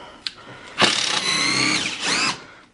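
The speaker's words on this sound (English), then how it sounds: "So I'm just removing the bolts here" A power drill or driver backs bolts out of the top of a large wooden shipping crate for a 50-watt CO2 laser cutter, with a short tap, then two sustained whirring runs close by.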